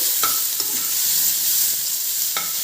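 Sour tomatoes sizzle steadily in a hot pan, a close, continuous frying hiss broken by a few sharp scrapes of a spoon stirring them around.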